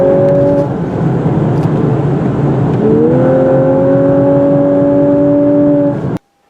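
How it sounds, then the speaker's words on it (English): A 2018 Lexus LC500h hybrid coupe on the road, with a steady humming engine note over road noise that climbs smoothly in pitch midway as it accelerates, loud and close inside the cabin, then cuts off abruptly. "I still think that exhaust sound is being piped in through the speakers."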